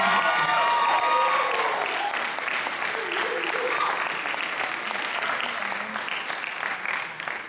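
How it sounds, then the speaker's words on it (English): A graduation audience at a San Francisco high school ceremony applauds steadily, dense clapping filling the hall for several seconds and tapering slightly toward the end. "Let's give Jessica and Jaleesa another round of applause."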